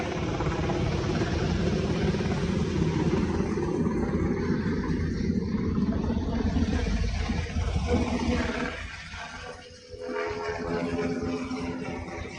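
A helicopter flies nearby, its rotor throb and engine drone steady and loud, dipping briefly near the end before swelling back.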